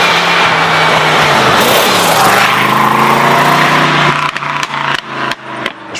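A Mini Lazareth fitted with a 6-litre V8 runs with a deep, truck-like rumble, loud and close, holding steady before breaking into choppy bursts of revving near the end.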